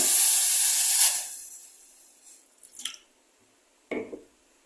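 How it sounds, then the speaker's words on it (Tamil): Steam hisses loudly for about a second as 100 ml of RO water heats in an empty bowl for homemade handwash, then fades into faint sizzles, soft pops and a short wet squish near the end. "தண்ணி நல்லா ஹீட் ஆகட்டும்."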